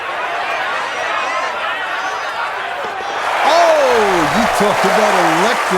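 Golf gallery at the 17th hole of the Players Championship final round reacting to a long birdie putt, a steady crowd roar and applause that swells partway through, with a commentator's voice over it.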